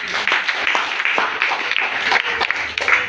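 A church congregation claps for Jesus during a Swahili sermon, a dense burst of close, lively applause with uneven individual claps throughout.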